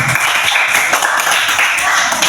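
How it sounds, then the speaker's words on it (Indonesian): Pupils in a classroom clapping together in a loud, steady burst of many hands that fills the whole moment without talk. "Berikan tepuk tangan."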